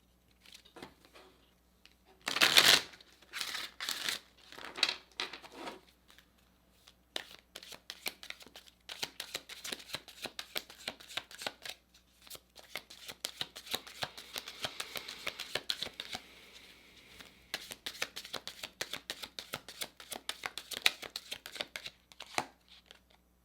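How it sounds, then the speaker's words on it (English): A deck of oracle cards is shuffled close up, starting with a loud riffle and then a long run of quick, soft flicking and pattering, heard alone. "Let's pull an oracle card."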